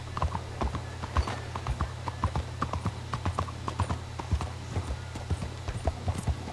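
Rhythmic horse hooves clip-clopping in the video game Red Dead Redemption 2, a steady close trotting gait over a constant low hum, with no talk.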